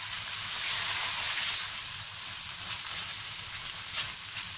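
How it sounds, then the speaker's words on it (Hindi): Chicken liver (kaleji) being stir-fried in a pan, an even close sizzle and hiss with a low rumbling undertone, brief swells as the pieces are moved, no talking. "इसको मैं 5 से 6 मिनट तक इसी तरह उसको भून रही हूँ।"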